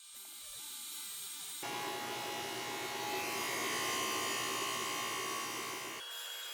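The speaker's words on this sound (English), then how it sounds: "A day or two later, I run these through the drum sander and get both sides nice and flat." A drum sander flattens end grain cutting board strips, a loud steady motor whine that jumps up as the wood feeds in, holds for several seconds, then drops back.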